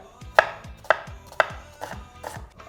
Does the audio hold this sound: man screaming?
no